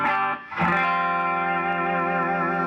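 Electric guitar through a Maxon pedal with its mode switch adding diode distortion in a JCM 800 style, played dry without amp reverb: a brief note, then a loud sustained distorted chord ringing out.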